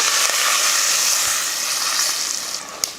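Steady, broad sizzling from turmeric, asafoetida and curry leaves sautéing in a hot pot, continuous and fairly close, with a faint clink near the end and no talking.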